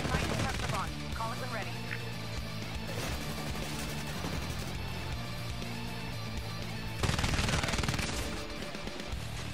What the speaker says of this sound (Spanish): ¿Quién me está disparando a la verga?